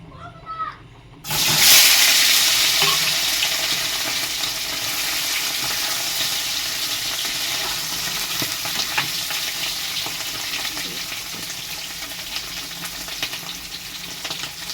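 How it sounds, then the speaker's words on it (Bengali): Potatoes frying in a pan: after a brief quiet start, a loud burst of sizzle that settles into a steady, dense crackling hiss lasting throughout, with occasional faint scrapes and no speech. "আমি এখন আলুটা ভেজে নিচ্ছি, দেখুন"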